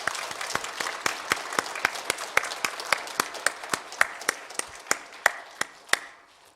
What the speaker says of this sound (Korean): 큰 박수로 하나님께 영광 돌려드리겠습니다